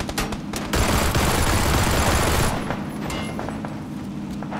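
Rapid bursts of 9mm gunfire in PUBG, loud and close, with a dense rattling volley for the first half-second or so, then quieter scattered shots trailing off, no talk over it.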